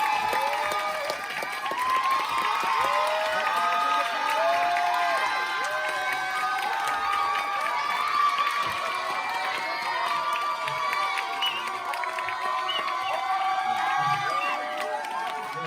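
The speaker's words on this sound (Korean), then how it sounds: "우리 최인주 사장님 모실 때 큰 박수 부탁드리겠습니다" A crowd at a beauty business academy event applauds and cheers as a company president enters, continuous clapping with whoops and shouts across the whole stretch.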